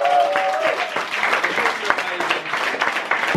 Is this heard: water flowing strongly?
no